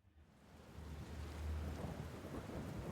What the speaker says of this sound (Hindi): बरसात तेज़ थी।